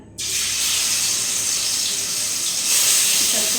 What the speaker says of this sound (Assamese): মছলাৰ লগত পুৰা তো এয়া চিকেনখিনি ফ্ৰাই হৈ আছে